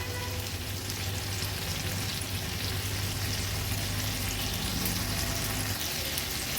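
Green chillies fry on high flame in a pan, giving a steady, dense sizzle that stays loud and unbroken the whole way through, with no talking.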